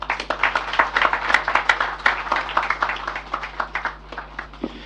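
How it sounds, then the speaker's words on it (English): Audience at a stock exchange listing ceremony for Aradel Holdings on the Nigerian Exchange claps in a dense, steady patter of sharp individual claps, close and continuous throughout, with a faint low hum underneath and no talking. "Please keep the applause going for the chair of Aradel Holdiings Plc."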